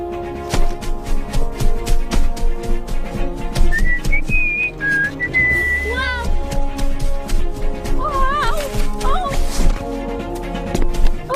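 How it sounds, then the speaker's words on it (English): A person whistles a few short rising and sliding notes over rhythmic music with thumping beats, the whistles clear and close. "why were you whistling like that"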